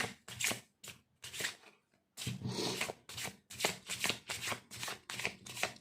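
Tarot cards are shuffled by hand in a string of crisp, riffling bursts, each about half a second long, with one brief pause partway through, close and clear with no talking.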